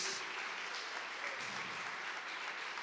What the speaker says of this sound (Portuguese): Mais forte, irmãos, as palmas são para Jesus.